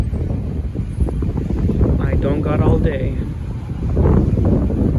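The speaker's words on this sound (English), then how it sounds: "Oof, it's really windy." Strong wind buffets the microphone on a downtown Clearwater street while waiting for a CSX freight train, a loud rumbling roar throughout, with someone speaking briefly over it.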